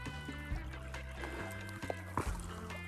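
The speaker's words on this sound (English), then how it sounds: "What a beautiful creek scene." Faint trickle and burble of creek water beside an Oregon trail race course, low in level under steady tonal hum and a few small clinks.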